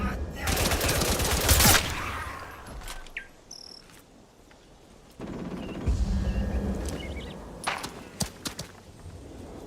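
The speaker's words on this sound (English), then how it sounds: "Who's shooting at me?" Bursts of gunfire in the video game Atomfall ring out against a constant chirping of crickets and insects, with a heavy loud volley near the start and scattered sharper shots later, all without talk.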